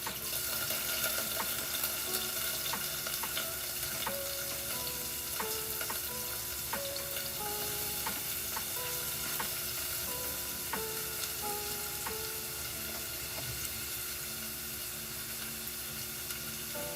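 Onions and garlic fry in a hot pan with a loud, steady sizzle that carries on throughout, punctuated by light clinks, with no voices.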